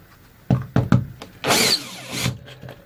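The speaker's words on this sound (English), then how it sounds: "doing so with a power drill makes life a lot easier" Several sharp clicks and taps, then a short whirring burst from a power drill spinning out 3mm hex screws on a Lewmar hatch, close and fairly loud.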